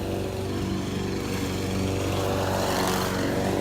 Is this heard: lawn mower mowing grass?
yes